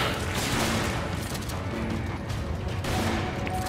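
Dense, sustained gunfire fills a Resident Evil 5 fight, with rapid shots and bursts piling into a loud, continuous barrage, mechanical clanks and booms mixed in throughout.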